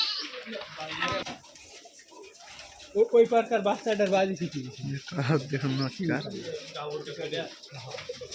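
Rajshahi Giribaj pigeons at their loft coo in soft, throaty bursts that rise mid-clip, close by, with faint voices and background noise around them.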